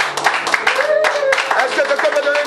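Enthusiastic clapping and cheering from a church congregation, continuous and lively, with voices shouting throughout.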